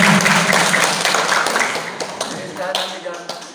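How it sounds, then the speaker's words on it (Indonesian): Audience at a Maulid Nabi commemoration in a high school claps together, a dense burst of clapping that slowly thins and fades over a few seconds. "Tepuk tangan buat dia."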